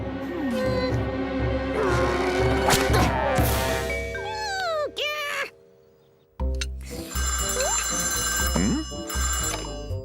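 A cartoon telephone rings loudly in a bright repeating electronic trill over busy music and sound effects, cutting out briefly midway before the scene resumes with more tonal effects.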